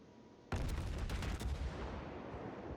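Naval gunfire from the heavy cruiser Mogami's 155mm guns in World of Warships, a sudden loud salvo of rapid overlapping booms that trails off into a sustained rumbling roar.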